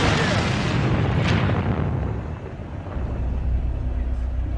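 An airstrike explosion on fighters' houses in Iraq lands as a loud, broad boom that rolls into a long rumbling decay, with a second swell of low rumble toward the end.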